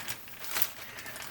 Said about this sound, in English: So now we'll find a different plastic bag.